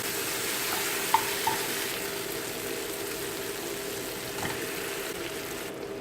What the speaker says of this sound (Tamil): இப்போ சிக்கன் போட்டுக்கலாம்.